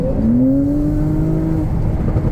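A lowered Porsche 992 Carrera S in sport mode accelerating hard, its engine note rising steadily from inside the car, loud and continuous.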